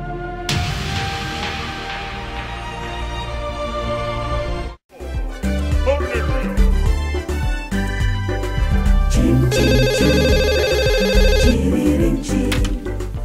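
A telephone ringtone rings out over a loud musical backdrop, a repeating electronic tone pattern that comes in partway through and keeps going.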